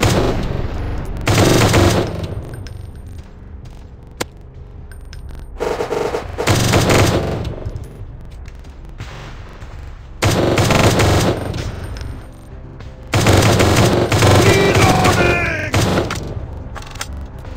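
Bursts of automatic gunfire ring out in a first-person shooter squad battle, loud repeated volleys of several seconds each, separated by quieter gaps with a single isolated shot.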